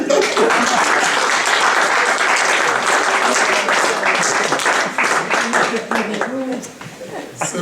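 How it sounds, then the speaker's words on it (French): A church congregation applauds the Lord with sustained, dense clapping that fills the room, loud and steady before thinning slightly toward the end. "Est-ce qu'on peut acclamer le Seigneur?"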